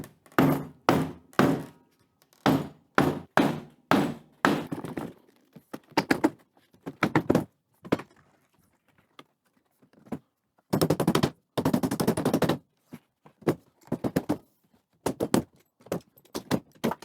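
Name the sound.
dismantling wooden pallet bases, hammering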